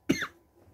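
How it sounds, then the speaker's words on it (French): A single short, close cough bursts out and fades within a fraction of a second, standing alone against quiet. "j'ai dû tousser un petit peu"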